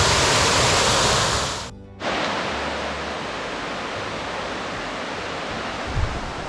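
Spoonauger Falls, a waterfall in South Carolina, roars as a steady, dense rush of falling water heard close up. There is a brief dip partway through, then the full wash continues unbroken.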